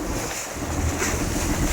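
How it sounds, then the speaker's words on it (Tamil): A boat engine drones steadily while water splashes and rushes against the hull on a crossing to an island, with heavy wind noise throughout. "அந்த போட் சத்தம் இந்த தண்ணி அடிக்கிற இது சந்தோஷமாக அடிக்குது."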